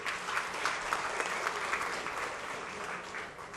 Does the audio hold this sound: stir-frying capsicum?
no